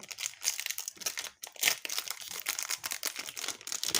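Plastic wrapper of a collectible card pack crinkles and tears up close as it is opened, with irregular crackly bursts continuing for several seconds and no talking.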